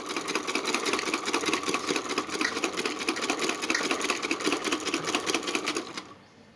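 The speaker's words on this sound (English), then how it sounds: "Along with the shape of our mask, we will give a curved stitching." A sewing machine runs steadily at a fast, even chatter, stitching a curved seam along the shape of a fabric face mask, loud and close, before stopping abruptly near the end.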